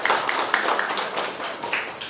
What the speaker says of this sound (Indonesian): Maka tepuk tangan untuk kita semua.